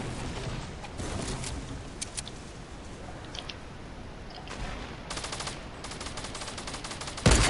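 Submachine-gun fire in a video game: rapid bursts of tech SMG shots crackle sharply, with a long sustained burst near the end and quieter gaps between. The fire is close and loud, and nobody speaks.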